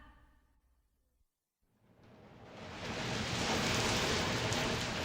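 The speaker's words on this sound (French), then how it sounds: "La pluie tombe" After a brief silence, rain at the French launch base in Kourou, French Guiana rises into a steady, dense hiss of falling drops that grows louder and holds.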